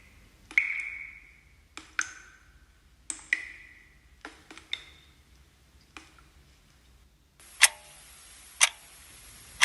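A clock ticking in sharp, evenly spaced isolated clicks with ringing tails in a quiet room, growing louder and brighter toward the end.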